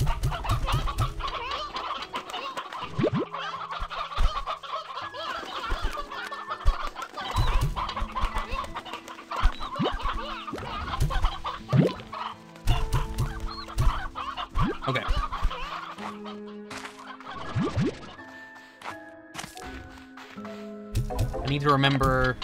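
Chickens cluck repeatedly in Slime Rancher 2, a busy flock of bright, overlapping clucks with a rooster-like call among them, layered with game music and effects while someone talks throughout.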